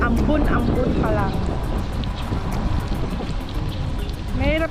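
Light drizzle and road spray during a night drive in Madou, Taiwan, a steady broadband hiss of rain and tires filling the whole clip, with a voice talking over it.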